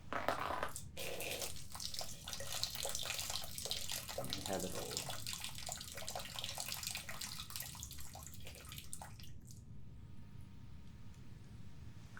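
Water is poured for drinking in a desert-wanderer adventure roleplay, a soft continuous splashing stream that runs for several seconds and then stops, with a quiet voice speaking briefly over it.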